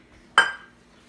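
A measuring cup scooping flour for a sourdough starter gives one sharp, bright clink that rings briefly and fades, with quiet surroundings before and after.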